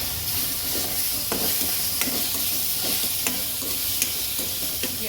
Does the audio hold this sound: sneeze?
no